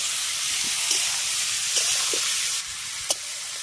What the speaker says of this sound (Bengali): এবার মাখিয়ে রাখা সমস্ত কিছুকে এই গরম তেলের মধ্যে দিয়ে দেব।